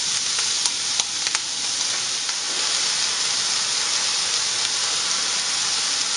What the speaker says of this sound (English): You want to continue cooking until the asparagus browns just a little bit.